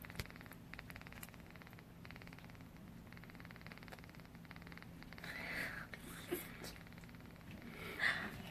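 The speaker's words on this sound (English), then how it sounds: "If you listen, you can hear him purring." A newborn kitten purrs very faintly and rhythmically, recorded up close in a quiet trailer, with soft rustling and a small snort-like sound toward the end.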